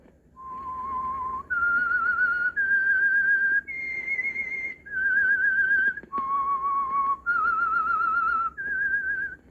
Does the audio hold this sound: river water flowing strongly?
no